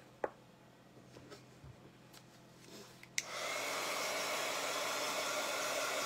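A hair dryer switches on partway through and blows a loud, steady rushing hum while drying a coat of paint on a scarecrow-head flowerpot craft, after a few quiet taps and handling noises.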